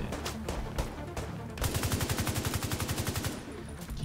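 Rapid automatic weapon fire in The Division 2, a steady rattling burst of closely spaced shots after a few scattered single reports, loud and close with game ambience underneath.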